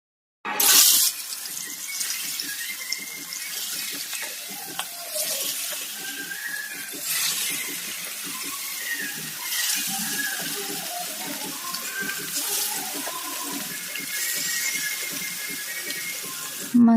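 Rice grains being rinsed under a running tap in a home kitchen, a steady splashing water flow lasting throughout with small clinks and swishes, fairly close and continuous.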